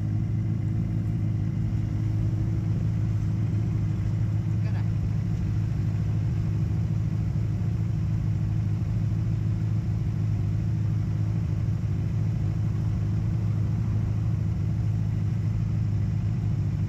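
A group of ten motorcycles, including a Kawasaki Versys and a 400cc SYM scooter, rides in Malaysia, giving a continuous, steady low engine drone and road rumble with no break.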